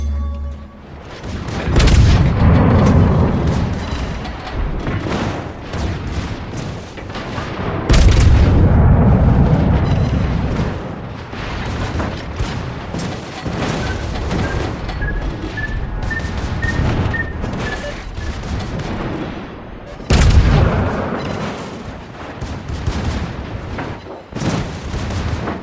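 An enemy battleship is destroyed by fire during a video game naval battle: heavy booms and rumbling explosions come in loud, repeated bursts with a continuous roar between them and a short whistling tone midway.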